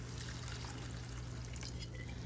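Water pours into a cooking pot in a home kitchen, a soft steady trickle lasting a couple of seconds at low volume.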